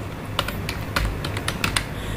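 Close, clear typing on a computer keyboard during a basic computer class, with a quick run of distinct clicking keystrokes and no talk over them.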